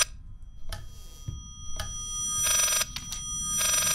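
Ringing telephone in the horror video game Layers of Fear: a few brief rings early on, then longer, louder bright ringing bursts toward the end over a low rumbling background, with no talk.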